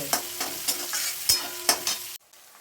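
Chopped onions fry and get stirred in a hot pan until light brown, with a steady close sizzle broken by several sharp scraping stir strokes before the sound suddenly cuts off.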